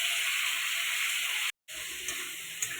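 Cauliflower and eggplant pieces hitting a hot pan in a home kitchen set off a steady, bright sizzle that hisses evenly, breaks off briefly, then resumes with a few crackling pops.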